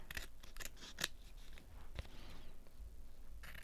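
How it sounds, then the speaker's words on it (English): Scissors trim paper tags up close, giving a run of quick crisp snips and clicks at an uneven pace with short pauses between them. No one speaks. "So I've got to trim them off."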